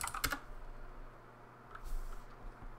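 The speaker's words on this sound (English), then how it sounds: "So I'm going to type group new." A computer keyboard clicks faintly as a short command is typed, with a quick cluster of keystrokes at the start and a few scattered taps afterward over a quiet background.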